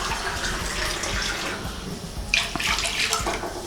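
Water splashes into a pan on the stove for sugar syrup, a continuous close pour that turns brighter and splashier partway through.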